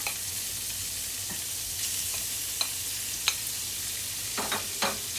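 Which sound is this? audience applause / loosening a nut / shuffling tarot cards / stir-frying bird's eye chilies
stir-frying bird's eye chilies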